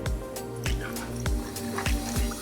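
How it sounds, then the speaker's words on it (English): Soda water is topped into mojitos in mason jars, giving a close liquid fizz and splash with a series of rhythmic glugging pulses, roughly five or six in quick succession. "I'm just gonna top them up with soda water to finish off the mojito."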